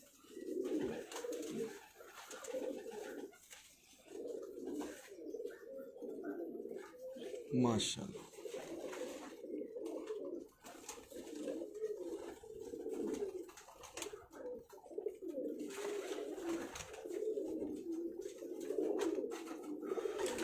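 Soft pigeon coos repeat steadily in the background while people talk over them throughout.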